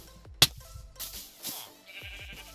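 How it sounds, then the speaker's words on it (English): A sheep in the Minecraft-based Crazycraft Bedrock Edition survival game gives one short bleat, followed by soft game footsteps and rustling and a faint high tone, with no talk over it. "See, I told you there was a sheep."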